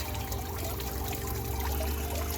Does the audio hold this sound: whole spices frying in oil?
no